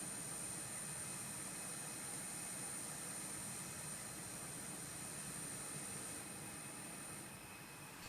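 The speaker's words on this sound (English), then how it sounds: "Right now we're flying with the CFM engines, and I believe that's the sound pack I have as well." Steady, loud whine and roar of CFM jet engines on an Airbus A321 in a flight simulator game, holding evenly with a high tonal whistle over broad rumble, no voices.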